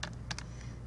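A few quick keystrokes tap on a computer keyboard, a brief, close clatter of light clicks with no voices.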